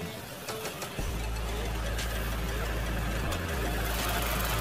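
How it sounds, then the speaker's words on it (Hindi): The 2.0-litre inline four-cylinder turbo petrol BMW B48 engine of a 2021 MINI Cooper S Convertible starts up and settles into a steady, close idle with a constant low hum. "तो ये है 2000cc inline 4 cylinder twin power turbo BMW B48 A20 petrol engine"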